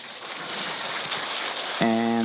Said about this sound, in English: please clap when you hear their names